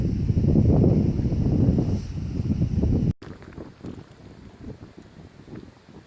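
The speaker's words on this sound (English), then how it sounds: "It is windy out here today" Strong gusty wind buffets the microphone beside a beehive with a loud low rumble, easing after a few seconds into a lighter, steady outdoor blowing.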